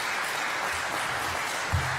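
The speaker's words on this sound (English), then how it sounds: "Can we have a round of applause for Diana and Rosemary," A small audience at a candidate forum gives a brief round of applause, a steady patter of clapping heard alone at moderate distance.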